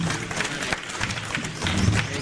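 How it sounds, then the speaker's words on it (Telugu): An audience at a school batch reunion and teachers' felicitation claps steadily, a dense patter of many hands filling the room. "మిత్రులందరికీ గట్టిగా క్లాప్స్ ద్వారా అభినందనలు తెలియజేద్దాం ప్లీజ్"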